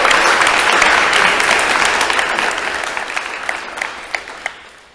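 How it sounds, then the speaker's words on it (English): A hackathon audience gives the competing teams a full round of applause, loud dense clapping from a crowd that slowly thins out toward the end, leaving a few scattered claps, with no talking. "I would like to say a big round of applause for all of you guys."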